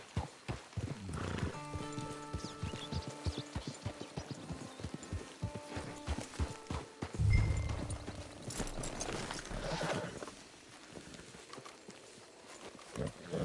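A horse in a PS4 video game: hooves clip-clop steadily while it snorts and whinnies, with soft rhythmic hoofbeats throughout and a brief neigh partway through.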